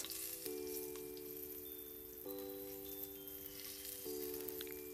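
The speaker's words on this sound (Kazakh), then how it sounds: "осылай екінші бетінде толықтай қуырып алатын боламыз" Potatoes fry in a covered pan with a soft, steady sizzle. The quiet hiss runs under faint, recurring tonal sounds in the background.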